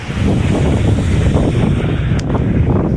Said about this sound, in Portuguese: Aqui hoje está uma ventania que tá muito legal